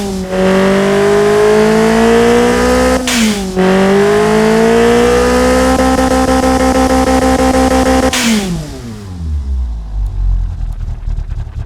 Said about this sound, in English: Let's fire it up and hear the new RPM range.